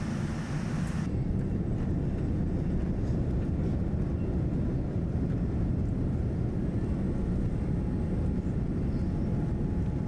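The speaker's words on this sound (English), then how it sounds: "We're taking off now." Airliner taxiing and then taking off from Kagoshima at sunset, heard from inside the cabin as a steady, loud low-frequency engine roar that holds throughout.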